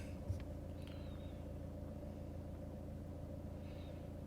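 Vauxhall Insignia 2013 2.0 CDTi diesel car with a turbocharger boost fault, driving along with a steady, low, muffled engine rumble heard from inside the cabin, even and quiet throughout, with no talk.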